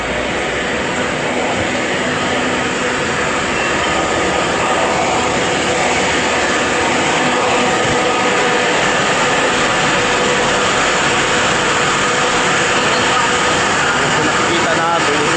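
Airplanes at an airport terminal departure area produce a steady, loud jet engine roar that fills the whole stretch, with people talking underneath.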